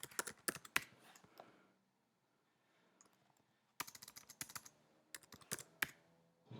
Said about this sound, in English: Let's type it out so it doesn't look lazy.